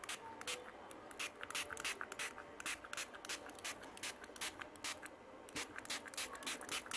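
Thinner being sprayed in repeated short bursts around a dirty speaker cone during a recone job, a quick rhythmic series of close, crisp hisses with brief gaps between them.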